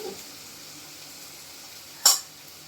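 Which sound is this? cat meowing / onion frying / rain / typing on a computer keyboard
onion frying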